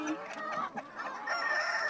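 A rooster calls hens to a feed of bananas, giving short throaty clucks and a brief crowing call, close by but fairly quiet, with faint farmyard background.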